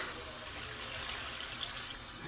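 Coconut milk pours into a cooking pot for a Filipino ginataan dish, a soft continuous liquid splashing heard close up and alone for a couple of seconds.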